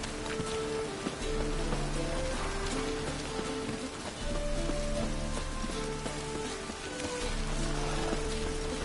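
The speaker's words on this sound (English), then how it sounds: "And it's raining again." Steady, dense video game rainfall in The Witcher 3: Wild Hunt patters on a surface, a constant hiss that fills the whole stretch with no talking over it.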